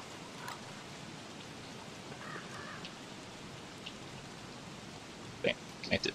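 Steady rain hisses across the scene in the game Don't Starve Together, a continuous soft wash with a few sharper clicks and taps near the end.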